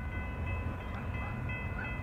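A Union Pacific mixed freight train rolls past at a rail crossing area in Iowa, a steady loud rumble with a continuous horn-like tone sustained over it.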